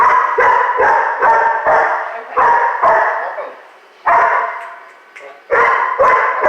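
A small puppy, a young dog in a training lesson, gives repeated short yips and barks close by in quick bursts with brief pauses, while people talk over and between them.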